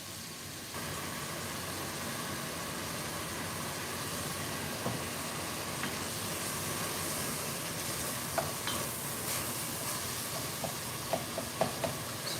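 Oxtail meat seared on high heat with salt, pepper and garlic rub, giving a steady, close sizzling fry throughout with occasional soft stirring clicks and pops.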